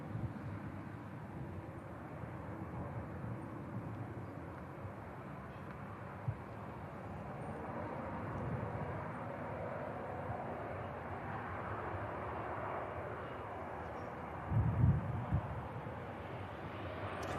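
Ryanair airliner with a 26-year-old airframe taxiing out for departure at Manchester Airport, a distant, steady low engine rumble holding throughout with a brief thump near the end.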